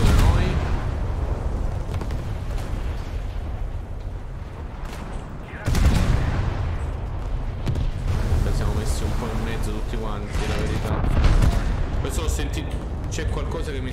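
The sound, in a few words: cannon fire hitting a ship in the video game War Thunder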